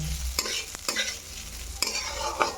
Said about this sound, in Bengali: আচ্ছা এটাকে ভালো করে ভেজে নেব